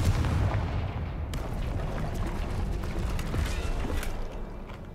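A Confringo fire blast spell in the Hogwarts Legacy video game, heard as a loud rumbling explosive boom with a sharp crack near the start, sustained booming roar that fades toward the end.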